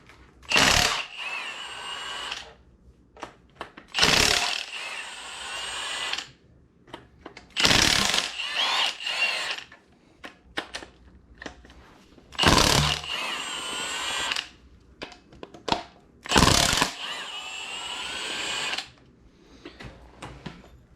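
An impact or power tool loosens cylinder head bolts during an LS engine swap, in repeated bursts of loud whirring and rattling separated by short pauses, with no talk.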